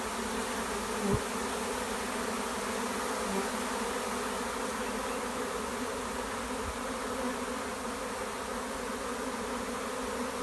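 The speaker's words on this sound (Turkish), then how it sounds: "Arıcılığın bir güzel yanı da arının oğul vermesi." A dense, steady drone of a honeybee swarm humming together, continuous and close, with no voices.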